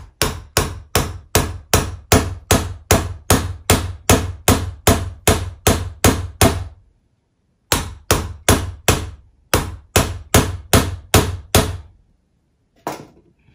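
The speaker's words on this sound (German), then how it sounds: "Ich hämmer jetzt hier mal ein bisschen drauf rum." Sharp hammer blows strike in quick, even succession, three bursts of rapid knocks separated by short pauses, close and loud.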